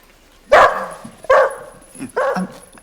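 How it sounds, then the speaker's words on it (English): A dog barking indoors, three loud close barks spaced about a second apart, with a bit of whimpering between them. "Why does the dog shout?"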